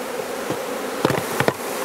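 Honey bees from a small colony weakened by varroa buzz around an open hive, a steady background drone with a few sharp close passes and knocks.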